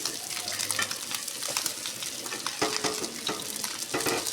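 Liver masala for Eid sizzles and fries steadily in a pan after a splash of water, a dense crackling hiss with occasional stirring clinks, close and continuous.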